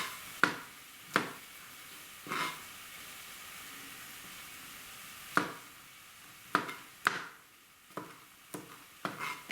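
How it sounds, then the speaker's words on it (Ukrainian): Knife chopping mushrooms on a board, a few sharp separate cuts spaced unevenly, then a quicker run of chops near the end, close by. "Гриби я також ріжу не дуже крупно, ось так, на якісь частинки."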